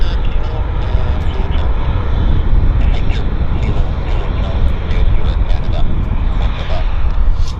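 An airplane at Vancouver airport produces a loud, steady roar of jet engine noise that stays constant throughout.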